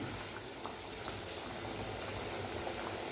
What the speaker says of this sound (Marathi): हा भात आपण मोठ्या गॅसवरती असं थोडा उकळून घ्यायचा आहे